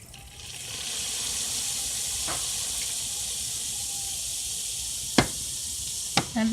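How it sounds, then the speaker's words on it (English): Water is added to a hot frying pan of rice, a steady hiss of hot oil and steam filling the pan, punctuated near the end by a few sharp clinks and scrapes. "so at this point I'm just going to add a little bit of water."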